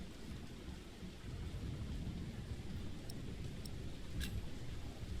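A steady thunderstorm with heavy rain hissing continuously and a low rumble of thunder underneath, a few faint drips and crackles standing out near the end.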